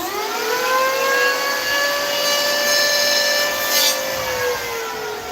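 Sandpaper rubbed along a wood edge during a rental-unit repair gives a steady, close, loud rasp lasting about five seconds, with a thin whining squeal running through it.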